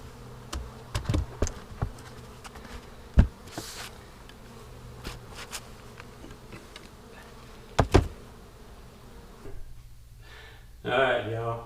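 Honey bees from an opened long hive drone in a steady, continuous buzz throughout, with a voice talking intermittently over it and a few sharp knocks and clatters from handling the hive.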